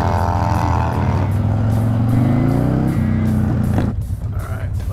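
Harley-Davidson 1250 Sportster motorcycles start and ride off from a restaurant parking lot, engines revving loudly up close and then pulling away with shifting pitch. There may be a voice underneath.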